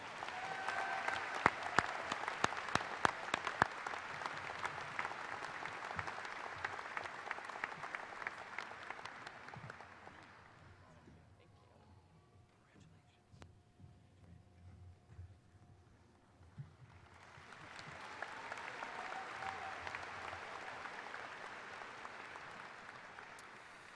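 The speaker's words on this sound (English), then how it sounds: "so let's give her another round of applause." Applause from a graduation ceremony audience fills the hall, fading to a quieter lull in the middle before rising again into sustained clapping, with no talking over it.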